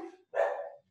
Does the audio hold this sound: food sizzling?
no